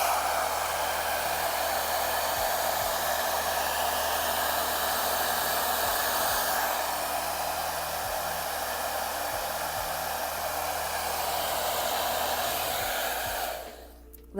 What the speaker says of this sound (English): To hit it with the blow dryer.